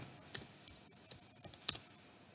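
Someone typing on a computer keyboard while entering a name into slab property software, a short burst of about half a dozen light, close key clicks at an uneven pace, with no talking.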